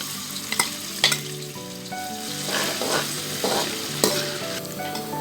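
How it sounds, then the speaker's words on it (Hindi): Onions sizzle and crackle in hot oil, a busy frying hiss with occasional clinks of a utensil stirring the pan. "हमारा ऑयल अच्छी तरह से गर्म हो चुका है। अब हम इसमें प्याज डाल देंगे।"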